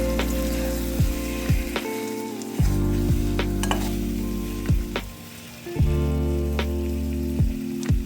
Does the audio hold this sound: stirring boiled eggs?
yes